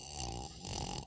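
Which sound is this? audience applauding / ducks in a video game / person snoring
person snoring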